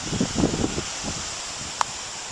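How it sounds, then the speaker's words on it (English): Blustery wind outdoors, a soft steady rush with a few gusty rustling swells near the start and a single brief tick later, faint and without talk. "Because it's a blustery day."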